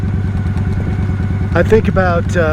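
Motorcycle idling and rumbling over an old red brick road in Milton, Florida, a steady low engine drone with clattering vibration, joined partway through by someone talking close over it.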